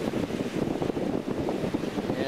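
Steady, blustery wind roars across the microphone beside a Lynx vertical-axis wind turbine, a dense low rumble with constant buffeting and no breaks.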